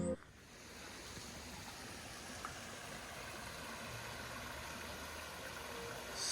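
A small brook runs steadily past a Korean village period-drama set, a continuous soft wash of flowing water heard from nearby with no break, faint and even throughout.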